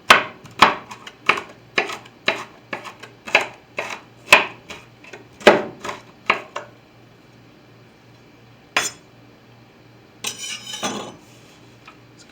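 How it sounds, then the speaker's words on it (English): Vegetables chopped on a kitchen counter for a chicken vegetable dumpling stew: a steady run of sharp knife strikes on a board, close and regular, then a pause and a few scattered clatters of utensils. "Start chopping."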